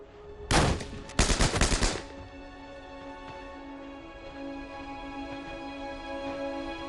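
Machine gun fire in a Second World War scene: two short, loud rattling bursts in quick succession, then a low steady hum that carries on alone.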